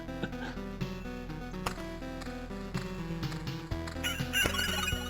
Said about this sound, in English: It's a rooster. There you go. I thought it was a rooster.